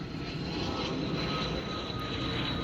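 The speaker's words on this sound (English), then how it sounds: "Oh my god, plane." An airplane flies overhead, a steady, fairly faint broadband drone that holds evenly throughout with no other sounds.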